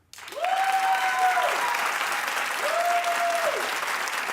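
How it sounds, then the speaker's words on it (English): Talk-show studio audience clapping as a show-of-hands poll on whether marijuana is addictive, a sudden loud wave of applause that holds steady throughout, with a voice briefly calling out over it. "clap only if you feel marijuana is addictive"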